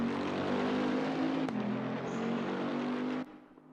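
Bentley GT3 race car at Kyalami in Assetto Corsa Competizione, a steady loud engine drone holding near constant pitch with a brief dip in the middle, cutting down sharply near the end.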